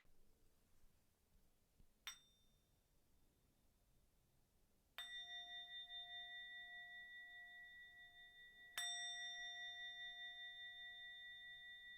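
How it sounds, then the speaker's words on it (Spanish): Meditation bell struck three times, first lightly, then two fuller strikes, each leaving a long, clear, shimmering ring that fades slowly in a quiet room. "al escuchar la campana, sal de tu práctica"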